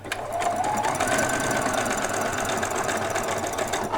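A sewing machine runs continuously on a long stitch through doll bedding batting, a steady fast mechanical whir and needle chatter, close and loud with no pauses or voices.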